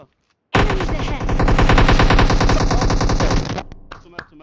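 Sustained automatic Uzi fire in PUBG Mobile, a loud unbroken three-second burst of rapid shots starting abruptly, followed by a few scattered trailing clicks.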